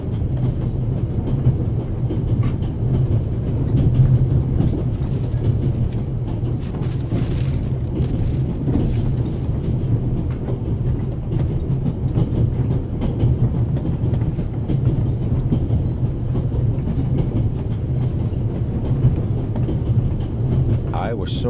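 A train in The Raven video game rolls along the tracks in a continuous, loud rumble with faint rhythmic clatter, steady for the whole stretch.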